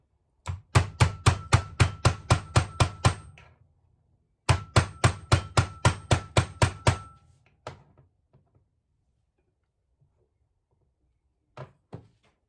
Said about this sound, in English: I use the hammer to tenderize it